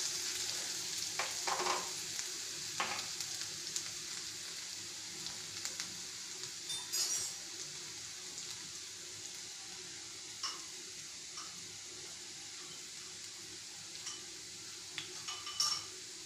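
Chopped garlic and small onion sizzling in oil in a pan while brinjal sabji is being made, a steady soft hiss with occasional sharper crackles and a few utensil stirring clicks, no talking.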